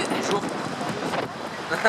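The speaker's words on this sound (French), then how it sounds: "il fait très beau mais il y a beaucoup de vent" Strong wind blows through the streets of Vienna on a sunny day, a steady rushing buffet against the microphone with muffled voices beneath it.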